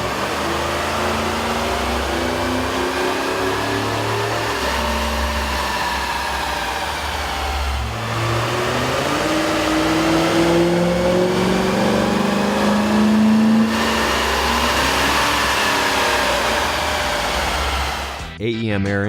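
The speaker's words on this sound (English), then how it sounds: "Here's a comparison of the Ford truck sound on the dyno with the stock OEM system versus AEM's air" A Ford F-150 truck with a 5.4-liter engine and an AEM cold air intake runs on a dyno, a loud, close, continuous roar that climbs and swells as the revs rise, then cuts off abruptly.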